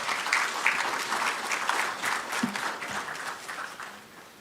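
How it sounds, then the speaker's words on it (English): Audience applause rising for the Chief Justice Designate at the swearing-in ceremony of Ghana's Chief Justice, a steady wash of many hands clapping that fades slightly toward the end. "Shall we please receive him with an applause?"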